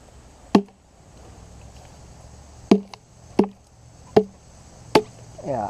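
A CRKT Woods Chogan hatchet chops wood, five sharp, loud, isolated thwacks spaced unevenly a second or so apart, ringing briefly over a faint outdoor background.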